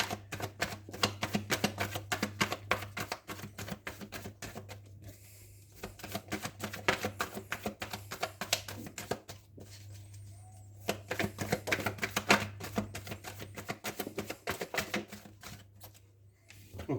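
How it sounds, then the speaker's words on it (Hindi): Tarot cards are shuffled close to the microphone, a rapid, continuous patter of flicking and tapping cards with brief pauses, over a steady low hum and no talking. "कार्ड्स को शफल करना शुरू करते हैं"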